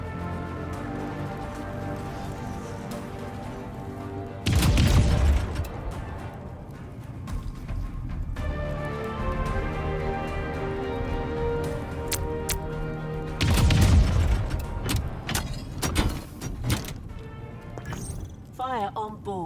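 Ship weapons firing and explosions in Wildgate: two heavy, sudden blasts several seconds apart, each trailing into crackling debris, over a constant tonal game background with voice lines.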